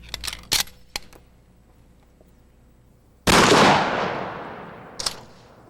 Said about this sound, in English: the mannequin is shot with a rifled slug